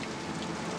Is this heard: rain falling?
yes